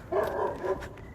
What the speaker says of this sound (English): All the dogs are barking at me.